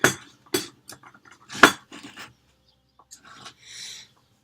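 A spoon clinks inside a ceramic raccoon-shaped tea container, making a few sharp, close taps and rattles with short pauses between them, followed by softer faint scraping.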